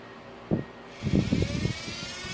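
A universal motor spins counterclockwise at low speed and low voltage, giving a steady faint whine with a low rumble, marked by a brief clunk and a short burst of rattling.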